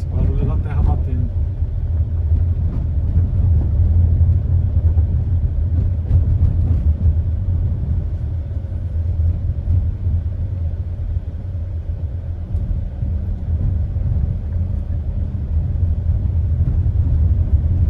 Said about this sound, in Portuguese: Esse barulho é da terra batendo.